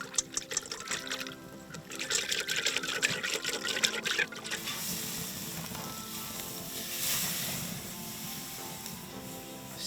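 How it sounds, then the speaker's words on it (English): Bluefin tuna sears in a hot pan with maple syrup and olive oil, giving a loud, steady sizzle that runs unbroken and close throughout, denser and crackly early, then settling into an even hiss. "Sear it off."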